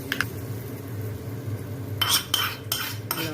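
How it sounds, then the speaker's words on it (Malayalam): A spoon stirs a hot oil tempering of cumin, mustard seeds and curry leaves into garlic chutney, with soft scraping and then several clinks of metal against the dish near the end. "നല്ലോണം ഇളക്കി ചമ്മന്തി മാറ്റി വയ്ക്കും."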